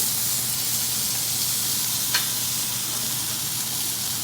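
A grilled cheese sandwich in a buttered pan gives a steady, even sizzle just after being flipped, with one faint tick partway through.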